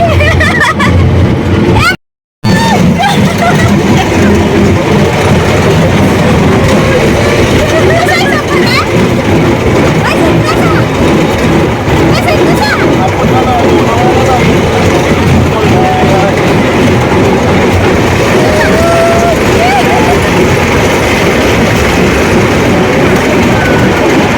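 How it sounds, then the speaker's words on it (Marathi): A train rumbles along steadily with dense, continuous rattling and clatter, loud and close, with people talking over the noise and a brief dropout near the start. "परत ट्रेन चालू झाली."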